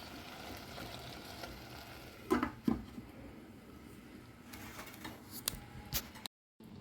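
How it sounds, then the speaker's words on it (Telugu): Tomatoes frying in a pan for a Telugu okra, tomato and dried-prawn curry, giving a soft continuous sizzle with a few louder utensil clinks near the middle, no talking. "టమాటా వేస్తున్నాను టమాటా వేగాలి బాగా"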